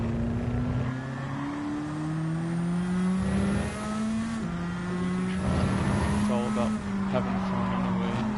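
A Nissan S15 Silvia in a driving game revs and shifts repeatedly, its engine note climbing and dropping through gears in a steady loud drone while someone talks over it.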